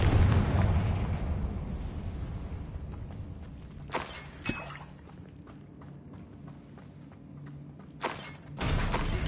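Confringo fire spell explosions in Hogwarts Legacy on PS5 go off as a few sharp, booming blasts. The bursts are spaced apart over a rumbling, noisy game backdrop.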